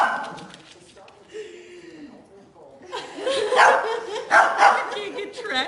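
A small puppy and a big dog play on a hardwood floor, with yips and barks, scrabbling claws and whimpers mixed together as people talk and laugh nearby.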